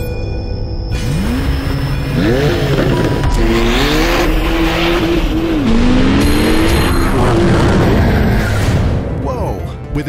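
Porsche 911 Turbo S with a 540 hp 3.8-liter twin-turbo six-cylinder boxer engine revving and accelerating hard, its pitch sweeping up and down through several loud bursts with a brief high whine near the end.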